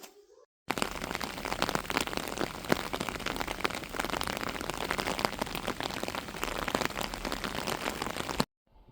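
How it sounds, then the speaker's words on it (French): Water rushing through street sewers after heavy rain, a steady dense wash of splashing and pouring that stays loud and continuous throughout, with no speech. "Vous entendez, c'est les égouts."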